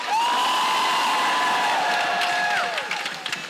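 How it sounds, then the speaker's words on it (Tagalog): A church congregation at a charismatic healing service lets out a loud, sustained shout and cheer, with rising whoops carrying above a dense crowd roar that holds for about three seconds and then fades. "Malakas na sigaw."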